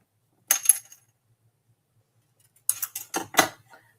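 Scissors snip paper for a handmade card: a short burst of crisp cuts, a pause, then a quicker run of several close, clean snips.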